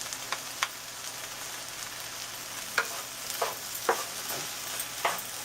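Okra masala with two hot chili peppers frying in a pan, a steady soft sizzle broken by a few sharp stirring scrapes and clinks, close and fairly quiet with no talking.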